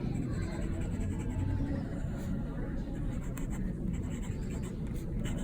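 Fine-nibbed fountain pen inked with Diamine Wild Strawberry scratching lightly across paper, a soft continuous scritch with slight feedback, close and steady beneath low background rumble.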